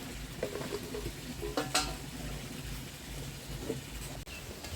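Skin-on chicken pieces sauté in a pan with spices, a low constant sizzle and sputter heard up close, with occasional scrapes and knocks of a stirring utensil.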